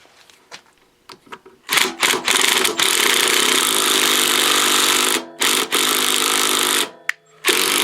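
An impact wrench rattles out a bolt on a Toro 524 snowblower engine in loud, close bursts of buzzing hammering, broken by short gaps, after a few faint clicks and handling noises.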